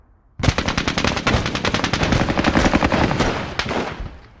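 Sustained automatic gunfire from a Squad Battles Eagles Strike combat game, a loud dense burst of rapid shots starting abruptly and rattling on for about four seconds, with no talk.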